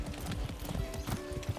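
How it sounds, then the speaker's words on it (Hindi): A horse galloping fast in Far Cry 6, rapid heavy hoofbeats drumming in quick rhythmic clusters, close and prominent, with faint tonal game sounds underneath. "भाई ये तो भयानक भाग रहा है यार ये तो घोड़ा।"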